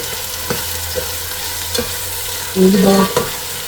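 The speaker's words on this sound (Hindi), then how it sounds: "1 से 2 मिनट बस फ्राई करेंगे मटरों को" Peas are stir-fried in a pan for mutar chawal, a close, steady sizzle broken by rhythmic scraping strokes of a spoon, with a brief louder burst near the end.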